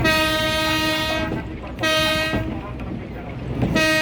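A tourist train at the Ambarawa railway museum sounds its horn in three long, loud, steady blasts separated by short gaps, over a running rumble from the rails.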